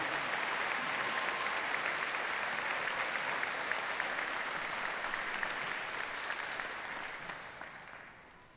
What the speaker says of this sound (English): Audience, please join me again in a round of applause for Major General Danner.